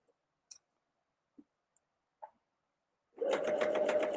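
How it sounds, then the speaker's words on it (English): A sewing machine stitches a jacket hem from the right side in one steady burst of running after a few isolated clicks and taps, close and moderately loud. "I really wanna sew my hems from the right side"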